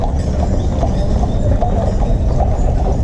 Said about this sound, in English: Wow, prancing horses.